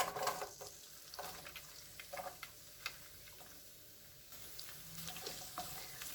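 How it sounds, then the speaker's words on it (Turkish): Four chopped carrots cooking in melted butter in a pan give a soft, faint sizzle, broken by a few light clinks and scrapes of a utensil. "Tereyağı eridikten sonra üzerine dört tane doğradığım havucu katıyorum."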